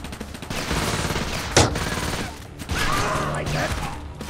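Gunfire from a multiplayer shooter video game plays as a steady, dense clatter of shots, with one sharp louder crack in the middle and a brief lull before the firing resumes, loud and close.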